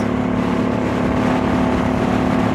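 A steady, loud Suzuki C50 Boulevard motorcycle engine drone at high revs on a highway at about 120, continuous with no pauses, like a motor running hard at speed.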